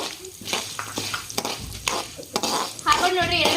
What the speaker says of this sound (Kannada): ಮೀಡಿಯಂ ಟು ಹೈ ಫ್ಲೇಮ್ ಒಳಗ ಒಂದ್ ಸ್ವಲ್ಪ ಕೆಂಪಾಗಬೇಕು ನೋಡ್ರಿ, ಆ ತರ ಇದನ್ನ ಫ್ರೈ ಮಾಡ್ಕೊಳ್ಳೋಣ್ರಿ ಗೋಡಂಬಿ ಮತ್ತೆ ಶೇಂಗಾ ಕಾಳನ್ನ